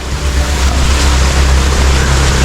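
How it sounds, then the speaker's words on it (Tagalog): Steady roar of sea waves and surf at a roadside shore in Tiwi, Albay, loud and close, with heavy wind rumble across the microphone and no talking. "Tapos dito naman sa kabila, dagat na yan,"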